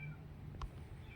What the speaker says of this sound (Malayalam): ഇവിടെ ഒരു പൂച്ച കരയുന്നല്ലേ?